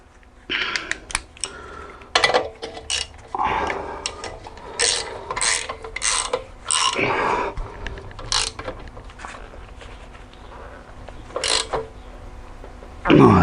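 Ratchet wrench tightening the rear shock absorber bolts on a car, a series of close, loud clicking bursts of varying length separated by short pauses, with no voices.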